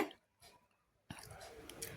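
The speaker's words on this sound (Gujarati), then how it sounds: "બરાબર મિક્સ કરી લેવાનું છે" Gram flour batter being mixed with water by hand for chickpea flour pudla, giving soft wet squishing and sloshing sounds, faint and sparse at first, then a steadier, louder stretch of close-up stirring.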